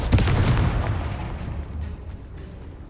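A Confringo fire spell blasts in a stone tomb in Hogwarts Legacy, a loud close explosion with a heavy low boom that rolls out and fades over about three seconds.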